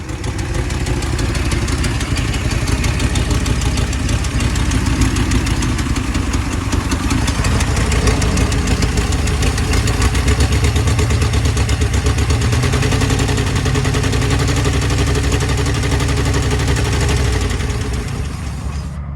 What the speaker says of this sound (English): so I think we got 7 cylinders now and a bad exhaust leak